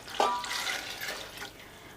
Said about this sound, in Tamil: அந்த தண்ணியை இதில் நான் சேர்த்துக்கிறேன்.